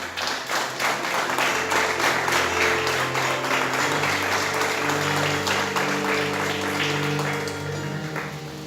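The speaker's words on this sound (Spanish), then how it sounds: "Dale un aplauso al Señor." A church congregation claps for the Lord during a Spanish-language service, with steady, brisk applause over sustained musical tones that fade slightly near the end.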